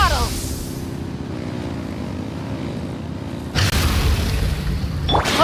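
An aircraft engine at full throttle in the Genshin Impact video game gives a loud, steady roar that surges louder partway through and stays close and continuous to the end.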